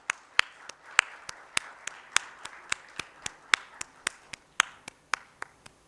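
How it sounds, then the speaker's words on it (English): Sparse, distinct hand claps from an audience at an insurance conference at a Mumbai hotel, roughly sixteen sharp claps spread unevenly over six seconds, fairly faint and without talk. "Can we have a loud applause and welcome him on the stage?"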